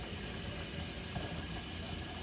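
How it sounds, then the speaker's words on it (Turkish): Water runs steadily at close range while being poured to make tea, a soft continuous splashing and trickle with no talking over it. "Evet çay suyumu koyayım bakın burada."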